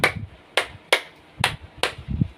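Sharp hand claps in a classroom clapping game, five crisp claps in an uneven rhythm, close and loud, with faint low murmuring between them.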